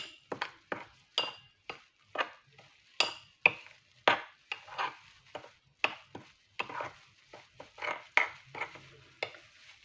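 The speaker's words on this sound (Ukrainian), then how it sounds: "І я це все перемішаю." A spoon stirs mayonnaise into a dish for baked carp, giving a close run of quick, irregular clinks and scrapes against the bowl, with no voices.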